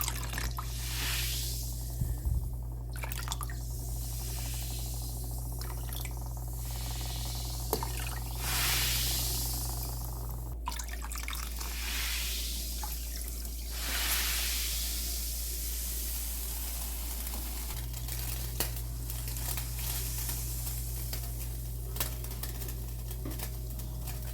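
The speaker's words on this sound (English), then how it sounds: "Baking soda reacts with vinegar, so it will foam up" Soft, steady fizzing and hissing with faint crackling pops as baking soda and vinegar foam up, quiet and continuous.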